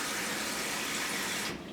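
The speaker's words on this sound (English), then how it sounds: "you just kind of fill up with water" Loud, steady rush of water pouring from a tap into a container of agate stones during polishing, a continuous close splashing hiss that eases slightly at the very end.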